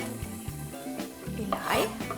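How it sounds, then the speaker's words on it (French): Onion is sautéed in a pan with a steady sizzle under repeated scraping and clinking of a utensil against the cookware as it is stirred. No one speaks. "je vais juste faire revenir l'oignon"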